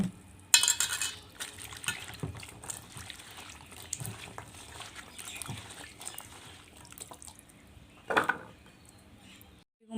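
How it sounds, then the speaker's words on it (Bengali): Cut sweet pumpkin pieces are rinsed in a bowl of water by hand, with soft sloshing and trickling, light splashes, and a few clinks of the pieces against the container, fairly quiet and close. "এখন হচ্ছে মিষ্টি কুমড়া ধুয়ে নেব।"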